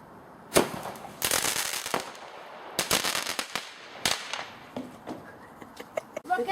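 Fireworks rockets bursting outdoors, a series of sharp cracking bangs with crackling trails, irregularly spaced and fairly close, ending in a rapid crackle.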